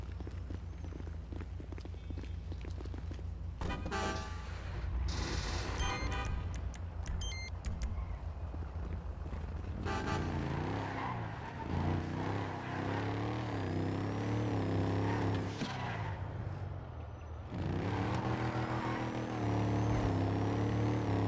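A car being driven in the video game GTA V gives a low engine hum that rises and shifts, with scattered tapping and thumping sounds over a fairly quiet background.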